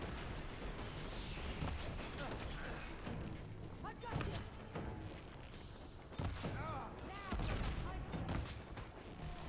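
A heavy gunner enemy in Horizon Forbidden West fires steady bursts of heavy weapon shots with thuds and mechanical clanks. The shooting is dense and continuous over game ambience, with a voice talking faintly underneath.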